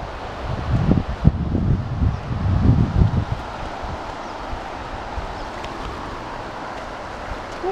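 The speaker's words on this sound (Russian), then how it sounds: "Ну, конечно, сейчас ветер" Wind buffets the microphone in low rumbling gusts at the Kapchagay Reservoir in August, strongest in the first few seconds, then settles into a steady outdoor blow.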